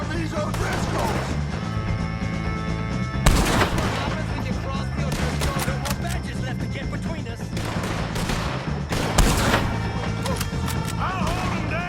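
Gunfire during a shootout with O'Driscoll gang members in a video game, loud repeated shots and bursts with sharp louder blasts near the third and ninth seconds, under shouting voices and background music.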